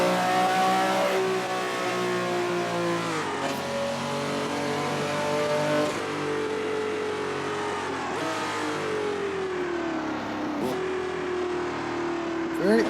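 A car engine revs hard and accelerates through several gear changes, loud and close, its tone climbing steadily and then dipping at each shift, running continuously for the whole stretch.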